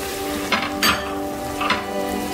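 Keema, minced meat, sizzles steadily in a pan over low heat while a spoon scrapes and stirs it in a few distinct strokes, close and clear with no talk.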